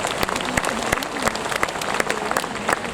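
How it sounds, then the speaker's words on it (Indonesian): An audience at a university graduation ceremony applauds, a dense spread of clapping with sharp individual claps standing out, steady throughout, with some voices heard in the crowd. "Kita beri tepuk tangan meriah"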